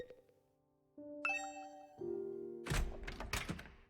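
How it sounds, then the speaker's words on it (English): A two-note ding-dong doorbell chime rings inside a house in The Hundred Line Last Defense Academy, fairly loud and clear, followed by a burst of busier game sound effects. "Wait, I have a doorbell?"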